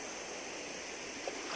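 Steady broadband rush of river water flowing at a bathing spot, constant and fairly close, with no voices over it.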